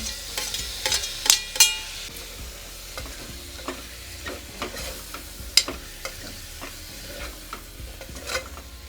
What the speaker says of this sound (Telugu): రొయ్యలు కూడా నీట్గా వేగిపోయినాయండి ఇప్పుడు టమాటాలు కూడా వేసేద్దాం